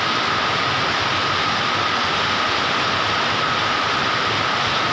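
Heavy rain pours steadily during flooding in Songkhla, a dense, even wash of broadband noise with no let-up across the whole stretch, loud and close, with no voices.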